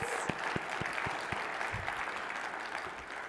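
An audience at a breakfast session of a food industry event claps together in a steady, dense wash of applause that lasts throughout.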